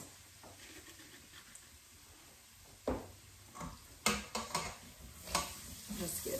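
Flour (Wondra) is stirred into a chicken tarragon pan sauce. A soft sizzle runs underneath while a utensil scrapes and taps the pan in several sharp, irregular knocks, with louder clicks near the end.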